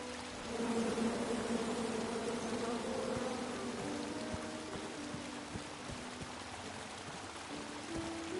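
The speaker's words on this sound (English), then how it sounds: "Come at me, bees!" Bees buzz in the video game King's Quest, a steady droning hum that swells early and holds at moderate level over a soft hissing background.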